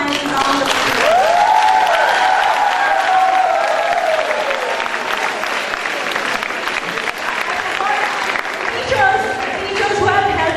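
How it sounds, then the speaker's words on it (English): Audience at a school drama production giving student actors a sustained round of applause, dense and loud, with a voice speaking over the clapping. "I would like you to give them one final round of applause."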